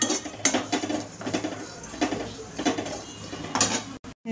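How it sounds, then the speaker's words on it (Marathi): Rice and lentils roast in a pan over a low gas flame, a spoon or spatula clattering and scraping against the metal in irregular strokes, close and moderately loud, with no talking. "गॅसची फ्लेम लो ठेवायची आहे आणि छान असं लालसर कलर येईपर्यंत तांदूळ आणि डाळ भाजून घ्यायची आहे आपल्याला छानपैकी"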